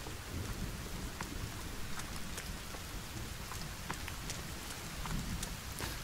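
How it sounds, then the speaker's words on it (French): Steady heavy rain pours in the forest of the video game The Forest, a dense constant hiss with scattered drop ticks and a low thundery rumble underneath. "Bien aussi l'orage, hein, comme sur Stranded Deep."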